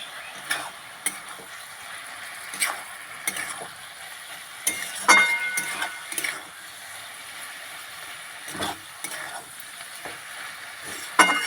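A spice-coated hilsa fish mixture with ground pepper, coriander and cumin is stirred in a frying pan, with a soft steady sizzle under repeated scraping strokes of a spatula.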